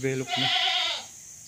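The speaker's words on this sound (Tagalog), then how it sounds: "Yan ang kambing, wow, kambing." A goat bleats once at a farm with goat pens, close and loud, a wavering nasal cry lasting about a second, with a short lower call just before it.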